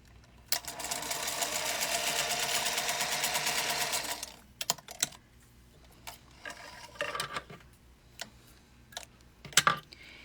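A sewing machine runs a long basting stitch, a steady, close, rapid whirring for about four seconds, followed by scattered clicks and handling noises.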